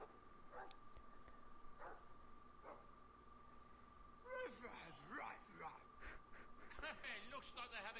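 A Mabari war dog in Dragon Age 2 gives short yips and whimpering, growly vocal calls, close and fairly loud in the second half, with a voice talking earlier and game ambience humming underneath.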